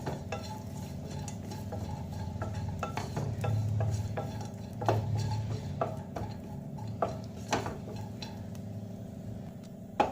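Grated coconut roasts in a pan while a spoon stirs it, giving soft scraping and scattered clinks of utensil on metal over a faint dry sizzle, close and fairly quiet.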